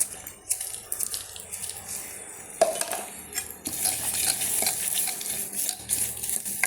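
Ground black pepper, cumin and fenugreek fry in a pan for Kollam-style rasam, a gentle sizzle under repeated scraping and clinking of a spoon stirring against the pan.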